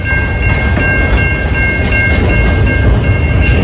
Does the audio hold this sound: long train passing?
yes